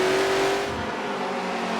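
Race car engines roar steadily in Forza Motorsport 7 during a sprint race at Dubai, a loud sustained drone that holds a high engine whine early on, with no talk over it.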